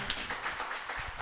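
A live audience claps to welcome a band onto the stage, a steady patter of hands that stays fairly even and moderately loud through the whole moment, with no voices on top.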